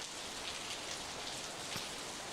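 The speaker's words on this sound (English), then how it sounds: "it started to rain." Steady rain falls in the visual novel Steins;Gate 0, a dense even hiss of drops hitting surfaces with no other sound.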